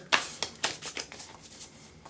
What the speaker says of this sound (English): So we're going to shuffle from the Spirit Animal Oracle deck.